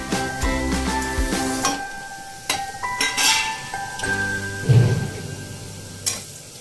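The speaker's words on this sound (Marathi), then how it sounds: "स्लो फ्लेम वरती आपण सुखे मसाले आणि कांदा भाजून घ्यायचा।" Chopped onion and dry spices roasting in a pan over a slow flame for a Konkani-style tender cashew curry: a steady low sizzle broken by repeated metallic clinks and scrapes of a stirring spoon against the pan.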